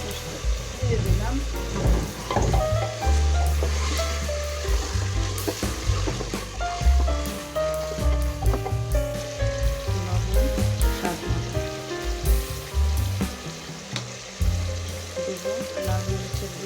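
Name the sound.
spice masala sizzling while frying for biryani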